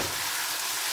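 Tomatoes dropped into a pan of frying vegetables give a loud, steady hiss and sizzle close by, continuous across the short moment with no talking.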